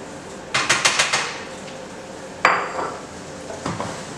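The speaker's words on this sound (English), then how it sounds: "go ahead and add your shrimp to the pan." Raw shrimp dropped into a pan of melting butter: a quick run of light clattering taps, then a sharper clack with a short ringing tail, followed by a few softer knocks, close and moderately loud.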